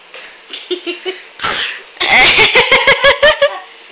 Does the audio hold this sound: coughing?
yes